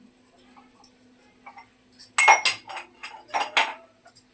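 Ginger being pounded to crush it for tea, a few soft taps followed by a cluster of sharper, louder metallic knocks and clinks close by, with no talking.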